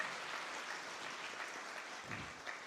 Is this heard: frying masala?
no